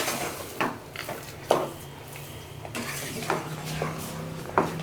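Rava kesari being stirred with ghee in a pan: a spoon scrapes and knocks against the metal several times at an irregular pace, with soft clinks between the strokes, close and fairly quiet.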